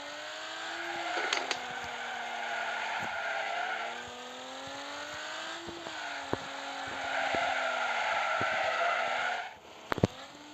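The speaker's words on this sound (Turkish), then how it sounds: "Arkadaşlar burada 50 kere drift atılır" A video game car drifts continuously with loud, sustained tire squeal and engine whine rising and falling over about ten seconds, punctuated by a few sharp knocks and a brief dip before squealing resumes.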